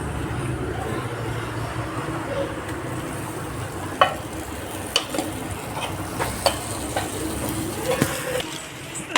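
Cooked rice is stirred and fried in a pan for egg fried rice, giving a low continuous sizzle with sharp clacks of a spoon or spatula against the pan, repeating every second or so.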